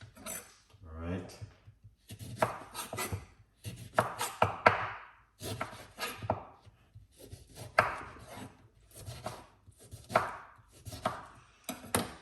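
Ginger and half a skin-on lemon being chopped with a knife: bursts of fast, close, rhythmic knife strikes separated by brief pauses, with a voice heard faintly at moments.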